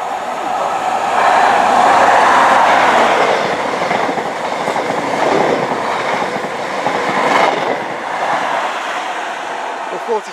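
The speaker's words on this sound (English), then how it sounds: "Coming through first is a Great Western Railway service from, I believe, Carmarthen to London Paddington." A Great Western Railway passenger train, a class 43 HST set on a Carmarthen to London Paddington service, rushes through Severn Tunnel Junction station with a loud, steady roar and rhythmic wheel clatter throughout.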